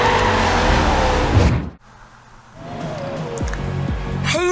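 Porsche 911 GT3 RS engine in the Forza Horizon 3 racing game, loud and revving, cutting out to a brief near-silence before the engine drone builds back up and climbs again.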